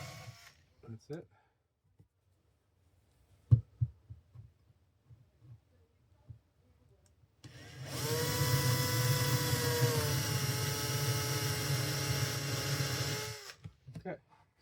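A power drill whirs steadily into a soft MDF IKEA drawer for about six seconds, its pitch dipping briefly mid-run, with scattered clicks and handling knocks before and after.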